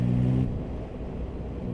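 Yamaha MT-09 SP motorcycle engine droning low at just over 2,000 RPM in sixth gear at 60 km/h, a steady close rumble with wind noise and no talk.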